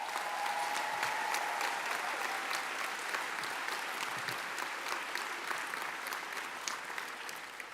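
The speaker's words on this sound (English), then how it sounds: "Give yourselves a round of applause." Graduates at a university graduation ceremony applauding themselves, a large hall filled with sustained, thick clapping that holds steady and eases slightly toward the end.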